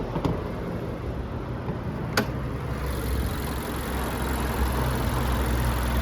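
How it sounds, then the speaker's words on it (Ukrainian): A 2016 Mazda 3 with a 1.5-litre engine idles with a low, even hum, quiet and steady, with a faint click or two and no talking. "Зверніть увагу, як тихо працює двигун"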